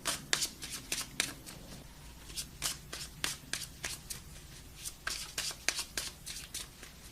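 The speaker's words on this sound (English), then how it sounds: "let's pull some outcome cards" Tarot cards being shuffled by hand, with quiet, rhythmic riffling bursts of paper slaps repeating close by and no talking.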